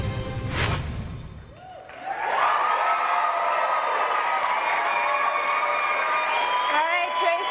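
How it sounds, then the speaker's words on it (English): A studio audience at a weight-loss competition show bursts into loud, sustained cheering and whooping after a short pause, with high-pitched shouts carrying over the crowd roar. "You worked hard for those applause."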